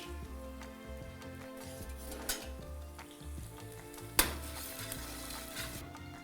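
Onions frying in a pan for ghugni chaat, a steady close sizzle running throughout with a couple of sharp clinks or taps from the pan, no talking.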